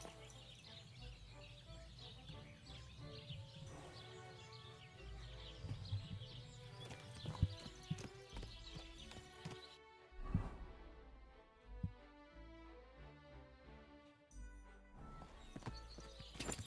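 A horse walks in Kingdom Come: Deliverance II, its hooves clip-clopping in a steady, quiet rhythm beneath soft background music, with a faint voice now and then.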